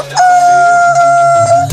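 A voice imitates a rooster's crow, giving one sustained, wavering cock-a-doodle-doo held for nearly two seconds, close and loud.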